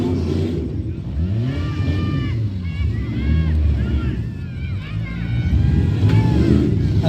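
Demolition derby cars in the MWFA class at Upperco maneuver around each other. Engines rev and whine in rising and falling bursts over a rumbling crowd-and-motor din, with voices mixed in.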